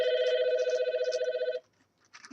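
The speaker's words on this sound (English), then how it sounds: "Of course, the goddamn phone rings." A telephone rings indoors with a steady, warbling electronic trill that lasts about a second and a half and then cuts off, followed by a short faint rustle.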